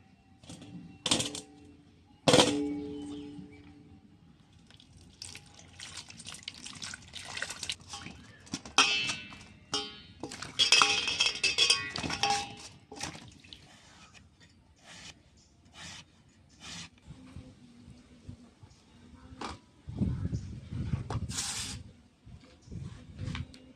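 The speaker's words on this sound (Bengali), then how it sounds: "চাল কুমড়ো ছাড়ানো হয়ে গেছে এবার খুব ভালো করে আমি ধুয়ে নেবো" Peeled ash gourd pieces being washed by hand in water, with irregular sloshing, rubbing and splashing bursts that come close and fairly loud, separated by quieter gaps; no talking.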